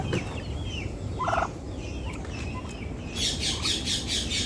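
Farm turkeys gobble in quick rattling bursts, one brief burst early and a longer run of rapid gobbles near the end, over a steady outdoor background with other faint bird calls.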